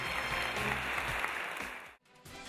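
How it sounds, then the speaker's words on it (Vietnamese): Warm applause from a studio audience greets a university agriculture team on a televised contest show, a dense burst of clapping that fades out, then cuts abruptly. "Tất cả quý vị và các bạn hãy dành một tràng pháo tay để chào đón đội Đại học Nông nghiệp"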